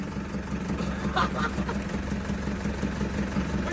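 A 4BC2 diesel engine with a black head runs at a steady idle, a continuous low rumbling hum with no breaks throughout.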